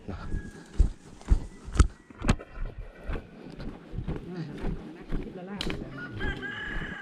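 Chickens clucking and a rooster crowing in a rural Thai village setting, close scratchy clucks and crowing mixed with footsteps and people talking nearby.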